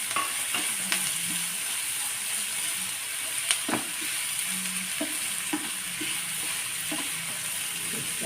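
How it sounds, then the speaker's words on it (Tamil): Onion and tomato sauté in oil in a pan for a samosa filling, giving a steady broad sizzle with scattered stirring clicks and scrapes, close and alone with no talking. "நல்லா வதங்கிடணும்."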